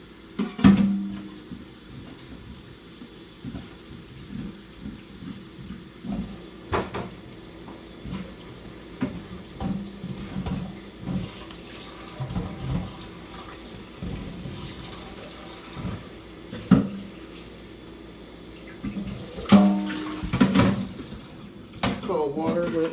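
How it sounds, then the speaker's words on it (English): Cold tap water running into a kitchen sink while trimmed broccoli is rinsed and drained, an uneven splashing stream with clanks of dishes and a draining rattle, heard up close. "rinse it and drain it."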